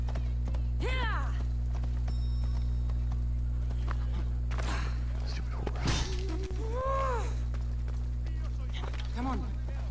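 Video game horse hoofbeats clop along under a steady low hum, with a voice talking over them and a few sharp game effects.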